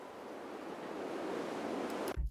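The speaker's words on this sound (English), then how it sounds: "We have stuff like sounds from the beach," Beach waves as a sound sample, a steady hissing wash of surf that builds slightly, then cuts off abruptly near the end, leaving a short dull thump.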